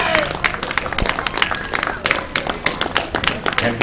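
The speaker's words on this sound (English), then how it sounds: "could we have a round of applause for these fantastic volunteers?" An audience applauds hypnosis show volunteers at a convention: dense, steady clapping from a crowd fills the room throughout, with voices mixed in.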